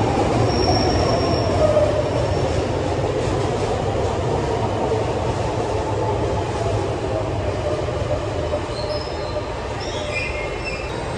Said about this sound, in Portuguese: E logo já vem chegando um trem aqui atrás de mim.